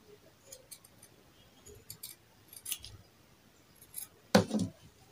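Scissors snip through dress fabric while a paper pattern is cut out for a Danshiki dress, a few sparse crisp cuts spread out against a quiet room, with one louder rustling snip near the end.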